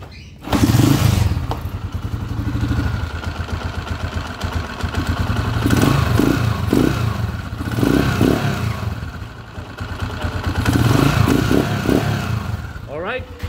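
A freshly overhauled kick-start motorcycle engine kicks over and sputters to life, then runs with rising and falling revs, close and loud, with brief clatter in between.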